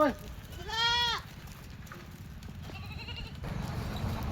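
An Osmanabadi or local Gavran goat in a shed gives one clear wavering bleat, followed by a fainter second bleat, with low shuffling and faint background noise.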